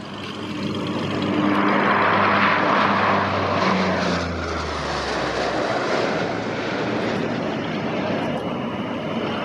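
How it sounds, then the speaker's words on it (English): A Royal New Zealand Air Force Lockheed Martin C-130 Hercules turboprop transport at an airshow drones loudly with propeller and engine roar, swelling as it passes close and then fading into a steady rumble, with no talking. "So this is one of 5 Lockheed Martin C-130 Hercules that we operate."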